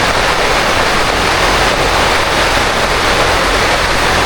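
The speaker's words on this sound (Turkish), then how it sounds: "Çok fena yağıyor dışarıda." Heavy rain pours down outside a lakeside camp at İznik, a dense, steady hiss of water with no breaks, loud and close, filling the whole stretch without any voices.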